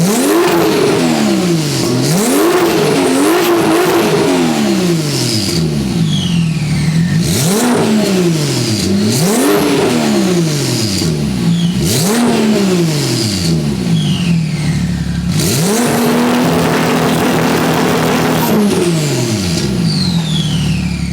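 Porsche 997 Turbo sports car engine, modified toward a GT3 sound, revved repeatedly at a standstill, with a loud, close series of sharp rising and falling blips and a few longer pulls.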